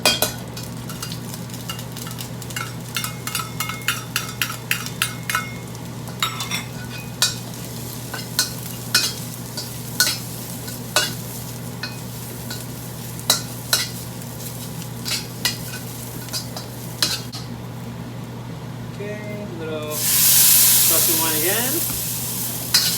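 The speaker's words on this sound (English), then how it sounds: "Now we're gonna cook the mushrooms a little bit separately" Mushrooms stir-frying in oil in a wok for Shanghainese stir-fry noodles, a loud steady sizzle with repeated clinks of a spatula scraping the pan, then a burst of hissing spray near the end.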